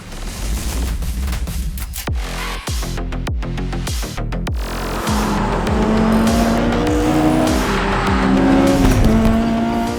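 A Honda Civic hillclimb race car drives hard on a track, its engine note loud and rising while the tires squeal and skid in repeated sharp bursts, with no voices.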